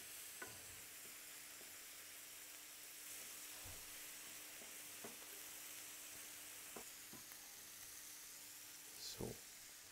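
Chanterelle mushrooms sizzle softly in butter in a pan, a faint steady hiss broken by a few light scrapes and stirs, with one louder clatter near the end.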